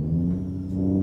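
A Volvo truck with a 630 horsepower engine, modded into Euro Truck Simulator 2, hums in a deep, steady rev, with a low rumbling drone held close and loud throughout.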